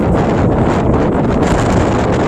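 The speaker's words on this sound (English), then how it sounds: "Now the wind is heavy. Now that we're out of the trees here." Heavy wind buffets a microphone outdoors in open sun beyond the trees, a loud, steady roaring rumble with no pause.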